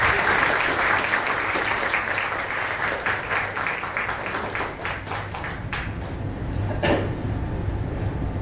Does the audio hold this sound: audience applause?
yes